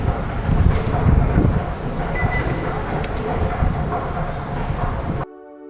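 A Montreal metro train rumbles loudly close by as it arrives, a dense roar with rattling wheels for about five seconds before it cuts off into a quieter tonal hum.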